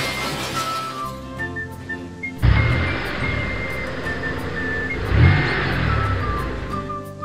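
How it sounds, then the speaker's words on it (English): Cartoon cars driving quickly along a wet, slippery road with a puddle, engines humming and revving in two rising surges over a light musical background. "Four little cars quickly drive along the road."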